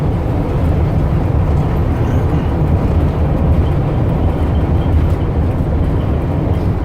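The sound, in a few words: 2005 Ford E350 wheelchair van driving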